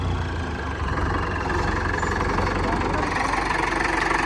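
A four-cylinder JCB diesel engine fitted in a John Deere tractor runs steadily at idle, a continuous low rumble with a faint knocking texture, close by and loud throughout.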